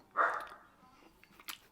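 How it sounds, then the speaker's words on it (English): Dogs bark a single sharp, moderately distant woof, followed by a few faint scuffles and a quick yip near the end. "And the dogs are barking."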